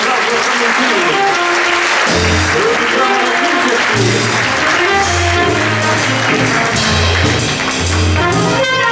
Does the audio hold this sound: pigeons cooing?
no